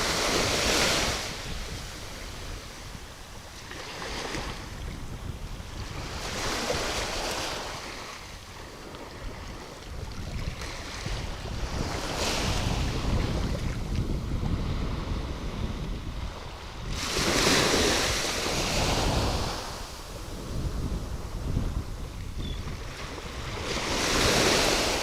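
Ocean waves crash and wash ashore on a Florida beach, a steady broad roar swelling into louder breaking surges every few seconds, with wind noise buffeting the microphone and no voices.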